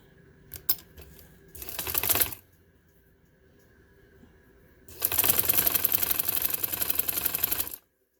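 A sewing machine stitches piping on a dress in two bursts of rapid mechanical clatter, one short and one longer, close and fairly loud, with quiet handling sounds between them.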